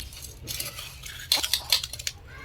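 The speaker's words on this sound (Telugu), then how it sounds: "ఆయిల్ వేసి తిప్పుకోండి" Oil is stirred through a mixture in a cooking pan, producing short clinking and scraping taps of a metal spoon against the pan in a few quick bursts, close and moderately loud, with no talk.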